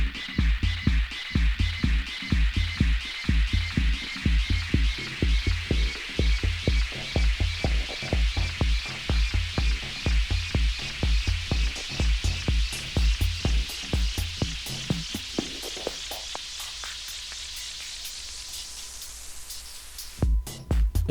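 Reverb effect on a Pioneer DJM-750mk2 DJ mixer, applied to a thumping beat whose pulses smear into a hissing wash until the drums cut out and only the fading reverb tail rings on near the end.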